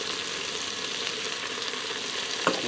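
Garlic and oregano fry with a steady sizzle in a pressure cooker pot for breakfast hash, a single louder scrape of stirring near the end, close and without talk.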